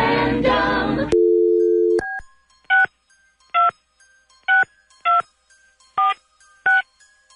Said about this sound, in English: Dialing at random.